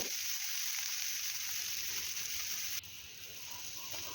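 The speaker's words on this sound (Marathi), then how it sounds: "इथे मी तीन मिडियम साईजचे कांदे हे चिरून घेतलेले आहे ते आता आपण लालसर होईपर्यंत छान असे फ्राय करून घेऊया" Three medium-sized chopped onions fry in a pan for misal pav with a steady, close, even hiss of sizzling oil that drops slightly in level partway through.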